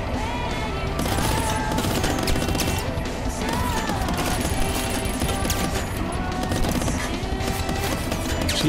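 Steady gunfire from Squirrel with a Gun blends with game music and clatter in a dense, unbroken wash of sound that stays loud for the whole stretch.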